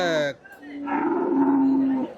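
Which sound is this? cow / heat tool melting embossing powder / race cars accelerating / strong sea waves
cow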